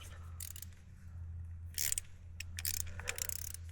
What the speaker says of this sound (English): He is tightening down this hose clamp.